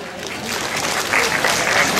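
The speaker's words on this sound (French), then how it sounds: "alors on l'applaudit d'avance" Audience at a live comedy show applauds, a dense burst of clapping that swells and holds throughout, with some voices mixed in.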